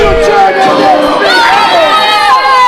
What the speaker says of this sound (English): This crowd is very lively and they are not happy whatsoever that Hannibal has won this match.